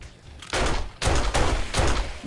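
Rapid bursts of gunfire in the zombie survival game 7 Days to Die, three loud volleys following a quieter stretch, each cluster of shots packed close together and sustained, with no talking.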